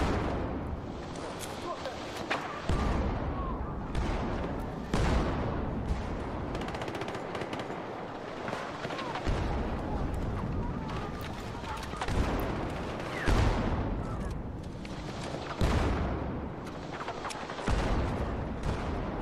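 Assault rifle and grenade launcher fire in a shooter video game: dense, continuous automatic gunfire with heavy blasts and explosions, loud and busy throughout, with a voice talking over it.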